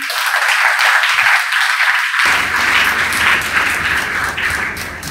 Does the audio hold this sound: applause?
yes